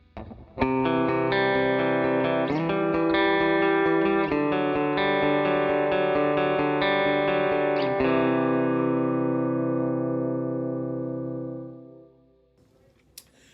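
Electric guitar played through an HX Stomp with a single amp and stereo studio reverb, chords ringing out loud and alone for several seconds before a long reverberant decay fades away.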